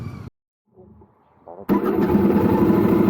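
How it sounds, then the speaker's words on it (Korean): A Royal Enfield Super Meteor 650 parallel-twin motorcycle engine cranks briefly after a short pause, then catches and settles into a loud, steady running rumble that fills the rest of the clip. "네, 시동 사운드 들리시죠?"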